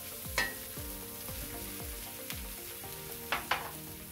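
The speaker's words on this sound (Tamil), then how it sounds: "அதையும் போட்டு கிண்டி விட்டுருவோம்." Mashed boiled potato being stirred into fish curry in a pan, a soft steady sizzle broken by repeated scraping strokes of a spoon and a few sharper clacks against the pan, close and quiet, no talking.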